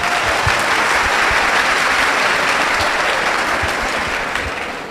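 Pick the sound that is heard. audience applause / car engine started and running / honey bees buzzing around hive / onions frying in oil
audience applause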